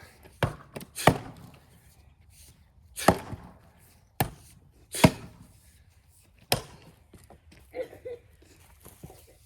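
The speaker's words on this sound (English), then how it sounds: "It's kind of like chopping with the, or splitting with the chopping axe." Firewood being split with a chopping axe outdoors: a series of sharp, loud wooden cracks and thuds at irregular intervals, about six strong strikes with quieter knocks between, no talking.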